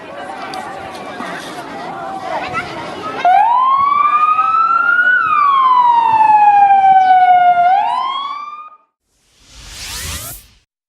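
A loud emergency siren wails and sweeps up and down close by, with voices and rumbling beforehand, then cuts off followed by a brief whoosh.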